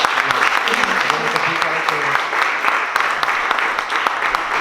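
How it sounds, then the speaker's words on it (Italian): An audience at a public debate on Europe gives the guests a warm round of applause, dense steady clapping close by with a few voices murmuring beneath. "facciamo un grande applauso ai nostri ospiti."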